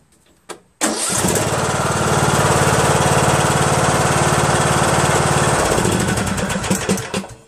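A Craftsman LT2000 riding mower with a 19.5 HP Briggs & Stratton engine cranks briefly, then catches and runs loud and steady close by for several seconds before beginning to ease off.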